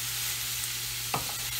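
Sausage with onions and peppers stirred in a hot, oily pan: a steady close sizzle throughout, with a brief scrape of the utensil near the end and no talking.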